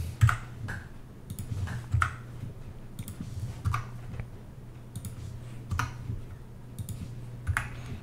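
Buttons on a game controller are clicked one at a time while binding, sharp isolated clicks spaced roughly every second or two over a faint steady hum, quiet and close.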